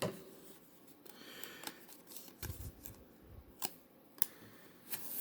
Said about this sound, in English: I recommend using a smaller pair of scissors, which is all I could find right now